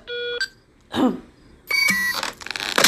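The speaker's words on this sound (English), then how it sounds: "I had to cough" One short human cough, close to the microphone, sits between bright electronic beeps and chimes from a Henry Stickmin collection video game.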